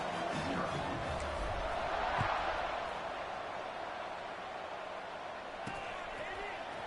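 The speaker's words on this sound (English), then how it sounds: "this crowd is buzzing after that last score" Steady, dense buzz of a college football stadium crowd after a touchdown in an SDSU vs ECU game, a continuous roar that swells slightly and then settles.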